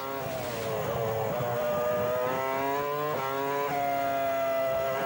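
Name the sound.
racing car engine with gear changes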